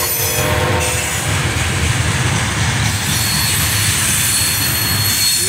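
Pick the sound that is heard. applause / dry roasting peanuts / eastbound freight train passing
eastbound freight train passing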